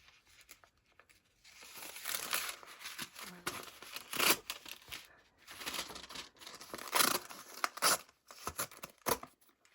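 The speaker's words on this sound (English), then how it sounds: "you can see that I could tear all the way around" Paper window envelope being torn by hand, a close series of ripping and crinkling bursts with brief pauses between pulls.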